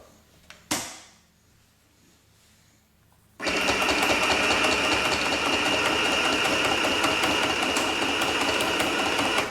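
A Singer M1000 sewing machine sits quiet after a sharp click, then starts up and runs steadily, a loud, continuous buzzing whir of rapid stitching close by that carries on to the end.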